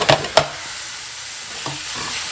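Tomatoes frying in a pan with a steady sizzle, broken by a few sharp stirring clacks near the start and another soft knock later.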